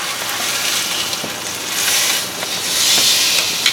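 Steak sizzling steadily in a scorching hot pan as it is flipped, a loud continuous hiss that swells twice, with no talking.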